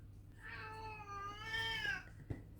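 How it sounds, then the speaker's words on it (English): A house cat lets out one long, drawn-out meow that rises and bends in pitch, clear and fairly close against a quiet room, ending with a soft thump. "my cat is agreeing with me again."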